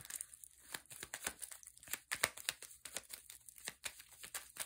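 Tarot cards being shuffled by hand give off quick papery riffles and crinkly flutters in an irregular, continuous rhythm, close and quiet, with no talking.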